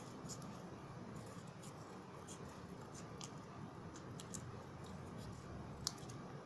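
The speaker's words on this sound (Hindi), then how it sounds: "इसको हम थोड़ा राउंड काट लेते हैं।" Scissors snip colour paper into a round piece for a tape-roll craft, giving soft, quick, near clicks and snips at an irregular rhythm over a low steady room hum.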